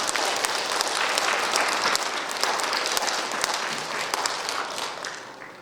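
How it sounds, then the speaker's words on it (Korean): A crowd at the 15th Nogeun-ri Peace Prize award ceremony claps loudly and evenly in sustained applause that gradually thins and fades toward the end. "감사의 박수 한번 부탁드립니다"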